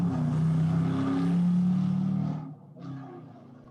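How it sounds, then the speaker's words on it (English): Loud motorcycles roar past outdoors behind a speaker, a sustained low engine drone that holds steady, then drops off sharply and swells briefly again as they fade. "excuse me for the loud motorcycles behind me"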